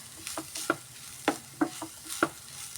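Beetroot and coconut stir-fry for upperi being turned in a pan: several distinct spatula scrapes at an irregular pace over a soft, low sizzle, close by.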